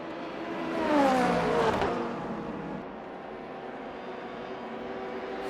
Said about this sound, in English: the LMP2 driver of Marin is actually helping the Ford Mustang here by just breaking the air in front of him